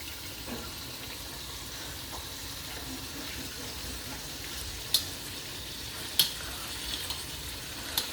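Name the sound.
shrimp browning in a pan for fried rice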